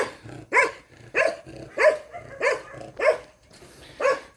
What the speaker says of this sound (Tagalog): Yung mga may ingay na aso.